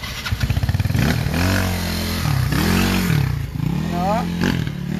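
A small motorcycle engine revs loudly and close by, with a sputtering idle breaking into several rising and falling throttle blips, while people chat in the background.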